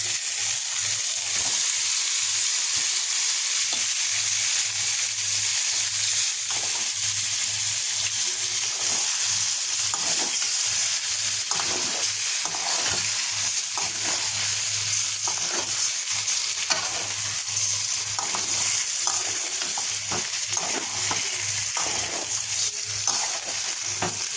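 Pangas fish cubes fry in a spiced masala paste, giving a steady, continuous sizzle with soft stirring scrapes and faint watery bubbling, close and unbroken, with no voices.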